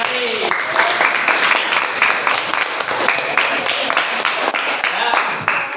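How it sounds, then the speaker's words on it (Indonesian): Classroom applause for a student group's presentation in an elementary Islamic religious education lesson: dense, energetic clapping from many hands, loud and continuous throughout. "Tepuk tangan buat kelompok mati."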